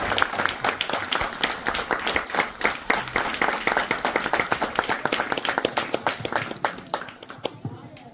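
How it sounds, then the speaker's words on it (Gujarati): Audience clapping at a charity event in the remote village of Gundiya, Gujarat: dense, sustained applause from many hands, steady and loud throughout, thinning slightly near the end. "તમે લોકો હકદાર છો આ તાળીઓના."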